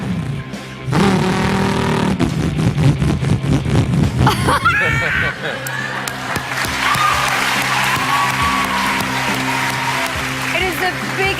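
A voice imitates a supercharged Shelby car engine, revving and whining loudly for several seconds, followed by an audience cheering and applauding.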